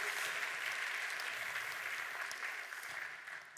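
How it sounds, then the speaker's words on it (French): Soft, distant applause from an audience at a French-language corporate gathering, a steady continuous patter that stays faint and even throughout, slightly thinning toward the end. "Jane Goodall, qu'on peut applaudir, évidemment"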